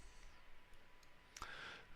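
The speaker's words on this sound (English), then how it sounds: "You do that by clicking on the Save button alongside the route name." A single sharp mouse click lands on a Save button in route-planning software, a brief close transient over a quiet room hum with no speech.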